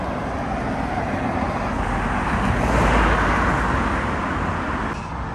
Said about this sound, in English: There you go, the Porsche.